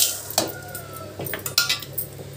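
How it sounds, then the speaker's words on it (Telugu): Dried red chillies dropped into a pan to fry for Andhra-style gongura pachadi, several clinks and metallic scrapes of a utensil against the pan over a faint background hiss, no voices. "ఇప్పుడు ఎండుమిర్చి వేస్తామండి."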